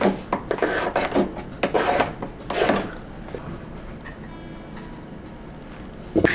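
Steel scraper rasping across the wooden bridge of a vintage Martin acoustic guitar, a series of close, uneven scraping strokes in bursts with short pauses between, no talk.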